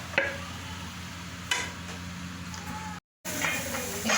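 Chopped onions fry in about a cup of hot oil for chicken karahi, a steady close sizzle and hiss with a couple of stirring scrapes and a brief dropout near the end.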